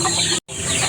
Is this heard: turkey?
yes